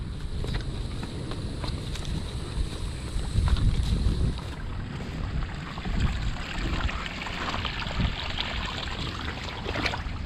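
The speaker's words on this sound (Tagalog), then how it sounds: "dito sa kabila ang lakas din ng tagas oh" Water gushes from holes in a leaking irrigation pipe by a vegetable garden outdoors, a steady broad rushing hiss mixed with wind buffeting.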